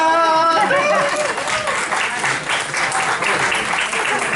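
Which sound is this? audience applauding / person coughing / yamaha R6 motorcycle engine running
audience applauding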